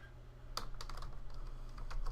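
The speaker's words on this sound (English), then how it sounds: "I'm going to just type in a brief message" Typing a short message on a computer keyboard: a quick, uneven run of light key clicks close by, over a low steady hum.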